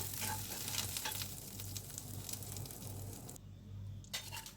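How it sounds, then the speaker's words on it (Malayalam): Curry leaves frying in oil in a pan, a steady broadband sizzle with a low hum beneath, briefly dropping quieter near the end before the crackle resumes. "ആ എണ്ണയിൽ തന്നെ കരിവേപ്പിലയും കൂടെ ചേർത്ത് ഒന്ന് മൂപ്പിച്ചെടുക്കുക."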